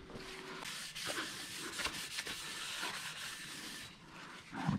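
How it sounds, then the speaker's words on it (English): Cloth rubs across engine and transmission mating surfaces being wiped down with acetone on a Cobra Daytona build, soft close hissing strokes in irregular bursts. "I'm gonna wipe down all the mating surfaces with some acetone"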